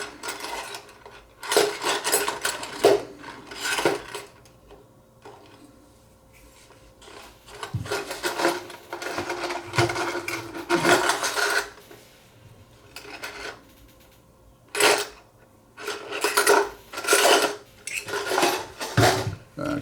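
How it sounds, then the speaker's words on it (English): A metal file rasps against the washer of a silver-plated Tall Zaima pipe lighter, scraping in repeated bursts of strokes with short pauses between them, close and fairly loud. "so when I file the washer down, it gets filed evenly all the way around"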